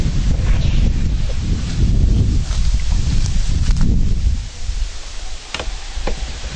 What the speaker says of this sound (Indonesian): suaranya angin gede banget tuh angin